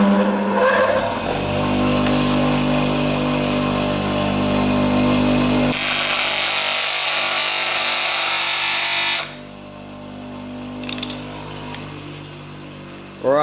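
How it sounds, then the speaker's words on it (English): Workshop angle grinder running loud and steady for several seconds, its high whine changing pitch partway through as it bites into the workpiece, then dropping to a quieter spin-down, with no talking. "This is the grinder, quick example."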